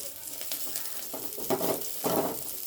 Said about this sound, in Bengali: এবারে আমি এর মধ্যে রসুন কুচো দিয়ে দেবো